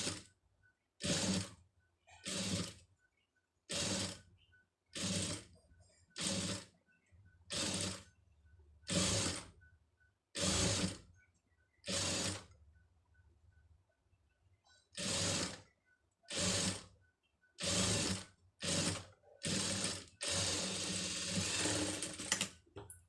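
A sewing machine stitching a designer blouse runs in a string of short, even bursts separated by pauses, loud and close, with a longer continuous run at the end and no voices.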